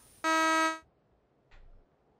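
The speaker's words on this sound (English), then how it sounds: "Honking at you." A vehicle horn in the video game PUBG on the Miramar map gives one loud, steady buzzing honk lasting about half a second, followed by a faint brief sound.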